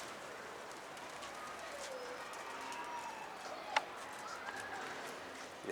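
Pigeons coo softly in a loft, with low faint calls at a distance over a quiet background. A single sharp click cuts through partway in.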